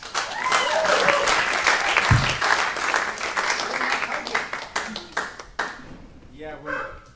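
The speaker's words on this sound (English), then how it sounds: "If you guys could give a round of applause for Mr." An open mic audience at the Grove breaks into loud, dense applause and cheering that holds steady, then thins out into scattered claps.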